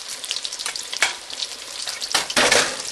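Breaded pork schnitzel fries in a pan with a steady crackling sizzle, rising to louder bursts of spitting fat near the end, close by with no talking.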